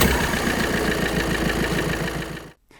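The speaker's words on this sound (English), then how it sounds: "With the LED steady green, you should be able to start your engine." A car engine runs steadily right after being started with a portable jump starter that also serves as tyre pump, power bank and light; a loud continuous rumble holds for about two and a half seconds, then cuts off abruptly.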